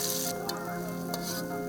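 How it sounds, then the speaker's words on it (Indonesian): Spices sautéing in a wok, a continuous close hiss and sizzle of hot oil with a couple of brief louder spatters as they are stirred, no voices. "Selanjutnya, tumis bumbu di atas wajan."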